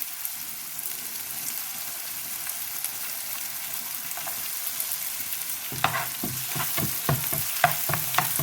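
Dried red chillies fry in hot oil in a pan until golden: a steady soft sizzle, then from about halfway a run of close stirring scrapes and clicks over the frying, with no talking.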